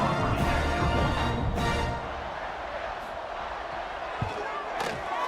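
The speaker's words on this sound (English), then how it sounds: "this crowd is buzzing after that last score" Football stadium crowd at a college game buzzes loudly after a score, a dense roar that eases slightly partway through, with a few sharp thumps and a commentator talking over it.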